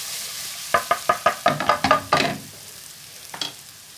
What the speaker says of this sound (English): it's important to cook the ginger and garlic paste through properly so it starts to fry